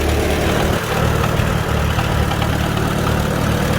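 A Farmall B tractor fitted with Tilmor tender plant hoes runs under load while cultivating, its engine a loud, steady, close rumble with no break.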